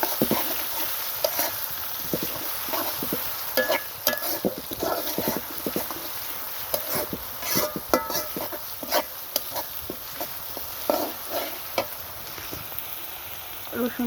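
Crushed garlic, two large cloves, frying in oil with onions for a snakehead fish bhuna, giving a steady close crackling sizzle with scattered clicks and scraping from stirring throughout.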